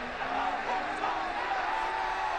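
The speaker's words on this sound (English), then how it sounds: "And hear just how happy this crowd is" A stadium crowd cheers in a football video game after Buffalo beats New England, a dense steady roar of distant voices that holds level for the whole moment without any commentary.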